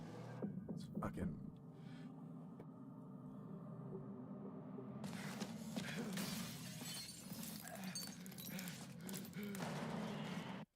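Glass shatters in the video game Judgment, a sharp crash near the start followed by a dense, loud burst of breaking debris later, all over a steady game hum.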